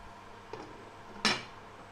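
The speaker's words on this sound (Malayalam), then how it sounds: "അപ്പോൾ നമുക്കൊന്ന് മൂടി വെക്കാം." Lid set down on a non-stick pan of carrot halwa in a home kitchen, a faint tap and then one sharp metallic clink, close and isolated in a quiet room.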